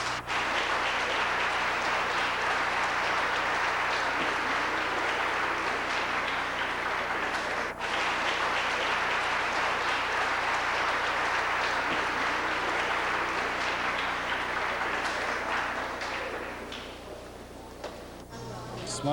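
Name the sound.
audience applause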